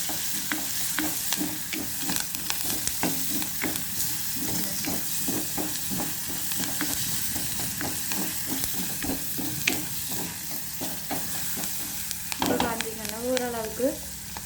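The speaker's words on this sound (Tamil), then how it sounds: "ஓரளவுக்கு வெங்காயம் வந்து வடிவாக பொரியட்டும்" Sliced onions and curry leaves fry in hot oil with a continuous sizzle. Frequent crackling pops and the occasional clink of a stirring spoon come through, and a brief wavering voice-like tone rises near the end.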